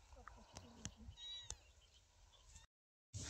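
A small kitten meows several times in short, high cries, close and fairly faint, outdoors in a field, with a person speaking around the calls.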